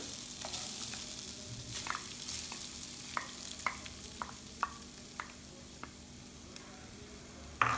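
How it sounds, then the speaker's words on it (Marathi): Freshly grated coconut frying in a few spoonfuls of hot ghee for modak filling, a quiet steady sizzle punctuated by a series of sharp spoon taps and scrapes against the pan, ending in a louder knock. "आता यात आपण एक अख्खा ओला खवलेला नारळ टाकत आहोत।"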